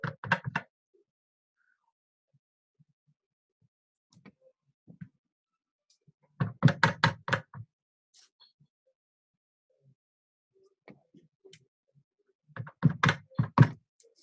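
A rubber stamp thumps onto paper in three separate bursts of quick dull taps, several seconds apart, with near silence between them.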